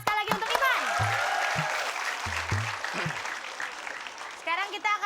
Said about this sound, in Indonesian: Tepuk tangan sekali lagi untuk Ipan